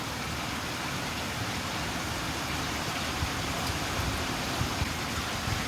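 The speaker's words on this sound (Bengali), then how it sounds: "এখনো অবধি টানা বৃষ্টি হচ্ছে সেই দুপুরবেলা থেকে।" Heavy continuous rain that has poured since midday, a dense steady hiss with occasional louder splashes, no voices.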